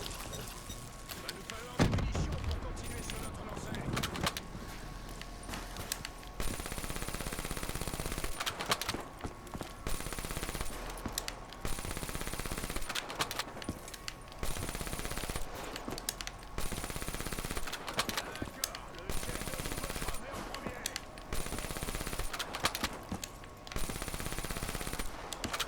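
Sustained video-game gunfire rattles in long automatic bursts almost without break, loud and dense, with a few heavier thumps and short gaps, while a player talks quietly underneath.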